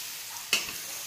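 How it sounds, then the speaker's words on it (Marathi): Bottle gourd and moong being sautéed in a pan with crushed peanuts, a steady soft sizzle with one brief louder stir-scrape near the middle, close and alone. "हे चांगलं परतून घ्यायचं."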